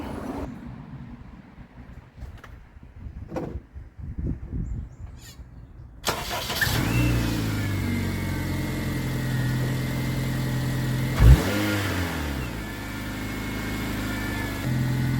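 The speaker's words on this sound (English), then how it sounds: "let me go to the inside and crank it over for the first time. It's going to be a cold start" A 2008 Honda Civic LX engine cranks on a cold start and catches after a few quiet seconds, then settles into a steady, fairly loud idle with a brief rev surge near the end.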